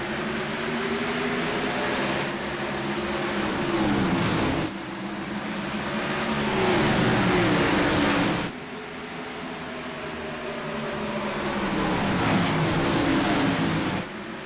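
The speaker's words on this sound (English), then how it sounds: "Rocketing off at turn 4, side by side." Race cars roaring off on a restart at Bristol, side by side, with a sustained engine drone that surges and fades in waves as the pack passes, loud and continuous with no talking.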